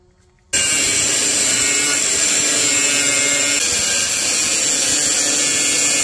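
A power tool cuts a small metal tab for a homemade RC crawler bumper, grinding loudly and steadily for about five and a half seconds after a brief quiet start.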